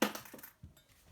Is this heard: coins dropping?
yes